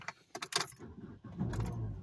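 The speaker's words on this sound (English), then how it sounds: "Starting the car up." Keys jangle a few times before the engine of a blue Chrysler PT Cruiser cranks and catches, settling into a steady idle close by.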